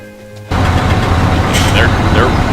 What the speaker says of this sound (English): So if I switch over to Farming Simulator, immediately you're going to hear, probably overpowering my voice, the tractor and the truck.